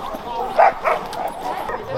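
At a dog show, a dog gives two short barks in quick succession, fairly close, while people talk in the background.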